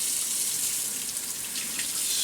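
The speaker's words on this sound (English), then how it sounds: "Turn on the cold water." Cold water runs steadily from a kitchen faucet, a loud, continuous hiss and splash that holds unbroken for a couple of seconds with no voices over it.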